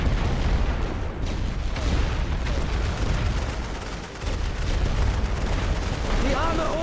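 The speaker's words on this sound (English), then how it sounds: "I'm going to need to drop some additional artillery rounds." Artillery fire rumbles in a Great War Western Front trench-warfare video game, with dense, continuous booms and gunfire rolling without pause at high, steady loudness.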